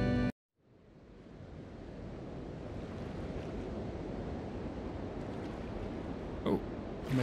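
Murky water in the Little Nightmares video game, The Depths, fills the space with a steady low wash and rushing surf-like noise that swells after a brief silent gap, with a faint splash near the end.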